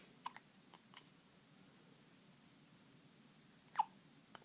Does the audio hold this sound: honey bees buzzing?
no